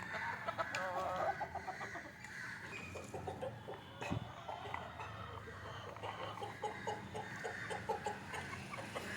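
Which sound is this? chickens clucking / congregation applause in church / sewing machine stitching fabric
chickens clucking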